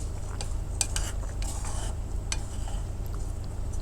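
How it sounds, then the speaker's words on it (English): Burghul, onion and chickpeas being stirred and sautéed with spices in a pan, a spoon scraping and clinking against the cookware in scattered strokes over a steady low hum, close and moderately quiet. "We're just like, sauteing them so they soak all those beautiful spices."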